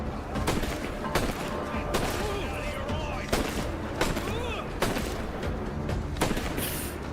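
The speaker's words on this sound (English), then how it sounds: "You ran right through my gunshot like I never fired it." Rapid bursts of gunfire from a shooter video game crack repeatedly at irregular intervals over a dense, busy in-game soundscape.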